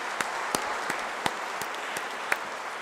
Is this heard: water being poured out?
no